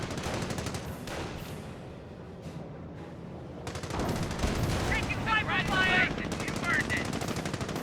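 Machine gun fire in the Company of Heroes video game, rapid bursts of automatic gunfire rattling in quick strings, joined by scattered shots and distant booms of battle, loud and continuous with a voice talking over parts of it.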